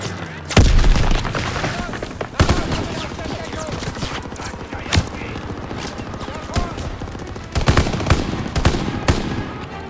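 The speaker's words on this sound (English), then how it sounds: "Grenade out!" Grenade blasts and heavy gunfire in Call of Duty: WWII's Rhine battle, several loud booms breaking through a steady crackle of rifle and machine-gun fire, with voices under the din.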